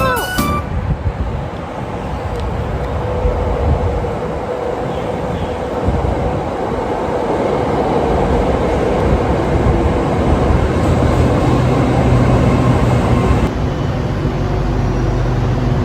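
A Red Line electric train pulls into Taling Chan station with a loud, steady rumble and rising rail noise that fills the platform for several seconds, close by and continuous.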